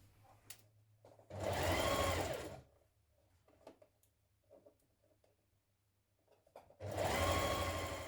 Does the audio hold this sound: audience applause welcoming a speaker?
no